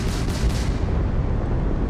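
Continuous heavy rumbling spaceship gunfire at an asteroid in the video game Starfield, with dense low booms, loud and steady throughout, a few sharper bursts near the start.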